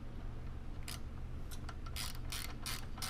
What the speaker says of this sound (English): Next, we're going to tighten down the fairing and the rear extrusion.